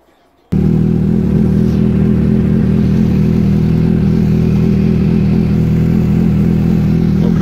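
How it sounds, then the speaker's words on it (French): Suzuki 750 GSR motorcycle engine firing up abruptly and then running loud and steady close by, a dense mid-pitched engine drone with a slight clatter and no talking. "L'avantage c'est qu'avec Suzuki, il faut débrayer pour démarrer,"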